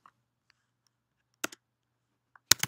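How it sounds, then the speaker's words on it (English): A few scattered keyboard clicks on a computer, sparse and quiet at first, then a short burst of sharper keystrokes near the end in an otherwise silent room. "I'm going to type in Zelix"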